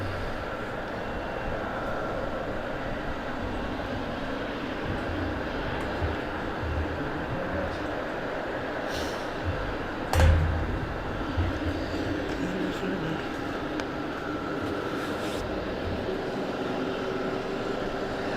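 A charter airplane bound for Guernsey at Southend Airport sets up a steady, distant engine drone, with one short thump partway through.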